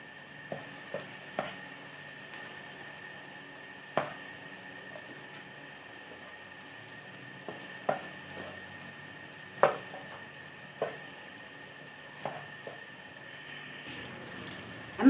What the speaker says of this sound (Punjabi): ਮਸਾਲੇ ਵਿੱਚ ਮੈਂ ਔਜਰੀ ਪਾ ਕੇ ਇਹਨੂੰ ਮੈਂ ਹੁਣ ਭੁੰਨਣ ਦੇ ਚੰਗੀ ਤਰ੍ਹਾਂ ਮੈਂ ਇਹਨੂੰ ਭੁੰਨ ਲਾਂਗੀ